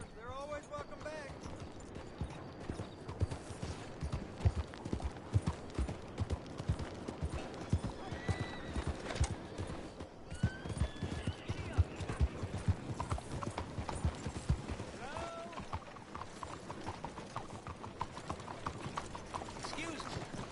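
Rhythmic clip-clop of horse hooves plodding steadily in Red Dead Redemption 2, with a horse whinnying and people talking over it, sounding like game audio.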